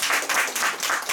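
An audience at a panel talk on Taiwan's railways breaks into a short burst of brisk applause, even and fairly close, with no talking over it.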